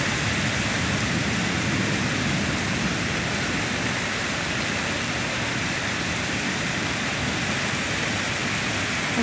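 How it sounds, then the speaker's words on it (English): Heavy rain pours steadily during a storm with a tornado warning nearby, a loud, unbroken hissing roar of water lasting throughout with no voices. "It has been raining like this for about 20 minutes."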